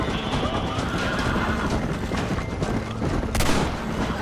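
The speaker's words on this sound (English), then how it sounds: "You shot the horse." Horse whinnies and neighs amid bursts of gunfire in the Red Dead Redemption western video game, a dense, steady wash of game sound with a sharp loud crack near the end.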